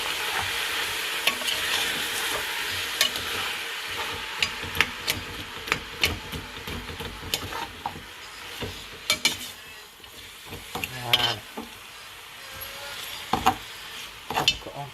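Meat for couscous stirred in a sizzling cooking pot, a spoon scraping and knocking against the pot in irregular strokes over steady frying hiss throughout.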